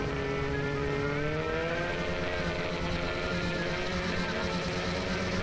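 Several snowcross snowmobiles hold high revs together at the start line of a race at Tenney Mountain, a dense, steady, distant engine roar with no talk.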